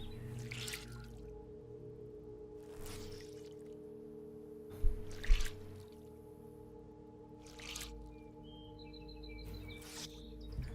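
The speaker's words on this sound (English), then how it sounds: "Just gonna wring out this clothing because I want to be not shivering all over the place." Wet clothing is wrung out in the video game DayZ: a few short splashes and drips of water stand out against a quiet outdoor backdrop with faint bird calls.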